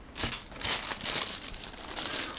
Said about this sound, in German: mache ich mal lieber wieder in die Tüte